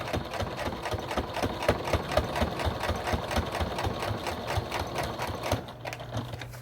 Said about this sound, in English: Obviously, you're sewing through multiple layers right now.